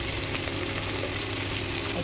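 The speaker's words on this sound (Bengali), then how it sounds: "আমি চিংড়ি মাছটা এবার ভেজে নেব।" Prawns fry in a pan with a steady, close sizzle and crackle that holds without break, spiced with five-spice seeds.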